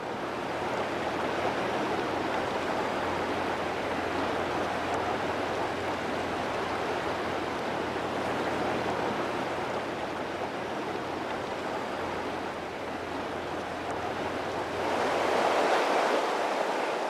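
The Dunajec river rushes through rapids near the Polish border, a loud, dense and unbroken roar of churning water that swells slightly toward the end, with no voices.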